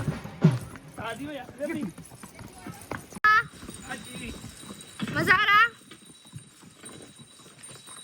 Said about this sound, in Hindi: देखे घोड़ा ना भाग जाए आपका।